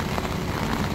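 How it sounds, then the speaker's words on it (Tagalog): Heavy rain during a typhoon with strong wind roars steadily as a dense, continuous wash of noise, loud and close. "lumalakas po yung ulan eh"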